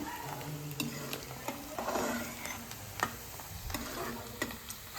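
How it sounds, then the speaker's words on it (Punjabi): Onion and ginger crackling in hot oil as a tempering for mustard greens, with a steady low sizzle, punctuated by light ticking taps of a spoon stirring the pan. "ਪਿਆਜ਼ ਤੇ ਅਦਰਕ ਪਾਤੇ ਤੇਲ 'ਚ ਤੜਕਾ ਲਾ ਰਹੇ ਹਾਂ"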